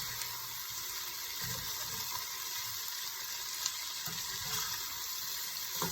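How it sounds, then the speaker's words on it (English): Water pours steadily into a hot pan of turkey and cabbage curry, a continuous hissing sizzle and splash heard up close, without talk. "Definitely time to add the water."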